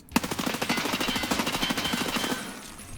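An M4 rifle in Escape from Tarkov fires a sustained full-auto burst, a rapid even rattle of close, punchy shots lasting about two seconds before fading into a short tail.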